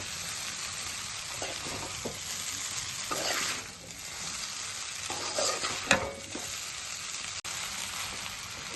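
Egg noodles with coriander being stirred in a hot pan on the stove, a soft steady sizzle with scraping stirs and a few spatula knocks against the pan, close and alone.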